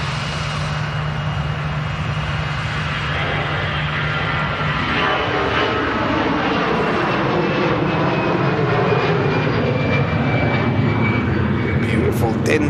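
An EasyJet Airbus A320 departs Manchester Airport with a loud, sustained jet roar that slowly shifts in pitch as it climbs away, while a voice talks over it.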